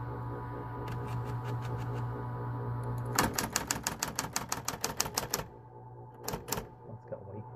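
A vintage Smith-Corona electric typewriter hums steadily while its keys strike in bursts, first lighter taps, then a dense rapid run of sharp clacks, a pause, and a few final strikes, all close and fairly loud.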